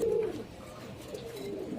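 A pigeon coos briefly up close at the start, then softer cooing from other pigeons continues in a quiet loft, with no voices.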